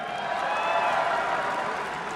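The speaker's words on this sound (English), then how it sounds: "The roar from the crowd." Packed theater crowd at a comedy show roaring and applauding, a dense sustained wash of cheering and clapping heard at a distance.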